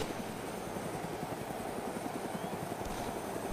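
Helicopter passing by in the video game ARMA 2 DayZ, a steady rotor chop with engine whine holding at constant loudness throughout, close and continuous, with no talk over it.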